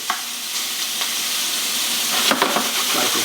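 Shrimp browning in a hot frying pan for lemon garlic shrimp pasta, giving a loud, dense, continuous sizzle close by with a few light stirring scrapes and no talking.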